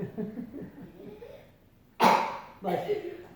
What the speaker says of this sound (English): that was just cough